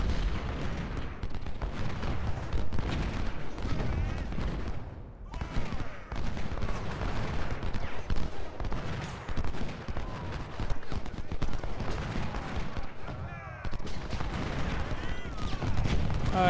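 Musket volleys and artillery fire in the Civil War strategy game Ultimate General: Civil War, a dense, continuous clatter of overlapping gunshots and booms that rumbles on without pause, with a brief lull midway.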